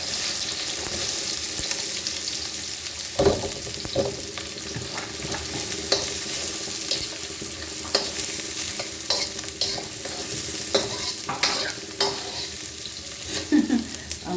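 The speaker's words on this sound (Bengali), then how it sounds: "এলাচ, দারচিনি আর তেজপাতা অল্প একটু দিয়ে দিলাম তেলের মধ্যে" Cardamom, cinnamon and bay leaves frying in oil with chopped onion for a Bengali chicken curry, a steady close sizzle broken by repeated scrapes and knocks of a spoon stirring the pan, with no voices.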